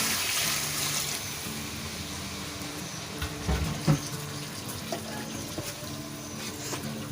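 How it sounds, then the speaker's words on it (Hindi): Water is poured into a pot of mutton korma, making a continuous gushing, splashing flow with a few louder sloshes near the middle, heard close up with no voices. "अब हम इसके अंदर 1 लीटर पानी शामिल कर देंगे।"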